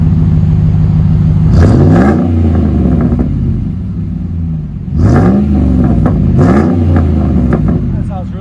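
A Dodge Ram with a 5.7 HEMI V8 and aftermarket exhaust revs loudly and close: two blips early, a pause at a rumbling idle, then two more sharp revs, with no talk over it.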